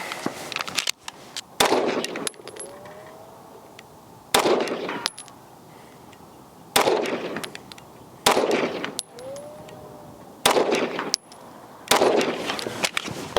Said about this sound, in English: Let's shoot another group, see where we're at.